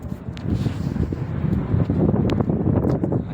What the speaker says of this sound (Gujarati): પવન ચક્કાનો અવાજ આવે છે